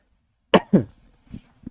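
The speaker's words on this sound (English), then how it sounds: "Coughing on stream?" Two sharp coughs in quick succession, close and dry, followed by a couple of softer throat-clearing sounds, alone without talk.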